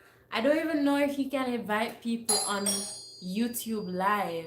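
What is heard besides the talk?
doorbell ringing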